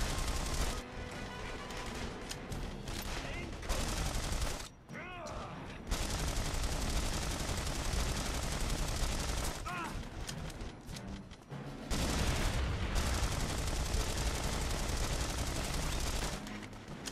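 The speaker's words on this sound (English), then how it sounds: "Machine gun." Sustained machine gun fire in the World War II action game Saboteur, long loud rattling bursts with a few short pauses and booming impacts, and a voice occasionally heard beneath the gunfire.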